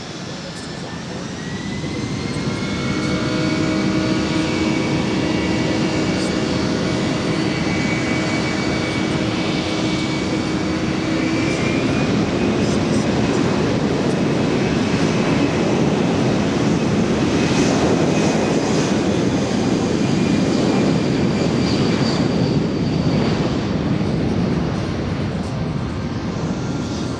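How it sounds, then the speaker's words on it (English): A USAF C-17 jet transport's engines roar at an air show demonstration, a sustained loud whining rumble that swells in and holds steady for nearly half a minute. "as the C-17 prepares for its demonstration"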